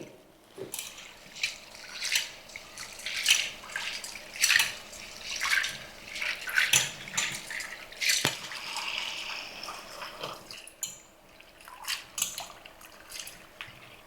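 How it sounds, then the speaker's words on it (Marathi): Water sloshes and splashes in a bowl or sink for a long stretch as chana dal is swished and rinsed, with intermittent drips and pours and no talking. "पाणी ओतून दोन ते तीन वेळा चांगली स्वच्छ धुवून घ्यायची"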